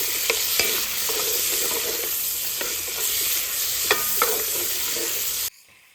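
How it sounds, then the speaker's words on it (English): About six cloves of frozen garlic sizzle and fry in a pot for a traditional Irish stew, a steady close crackle with sharp pops and stirring clicks, no voices, ending in sudden quiet. "as this garlic is cooking"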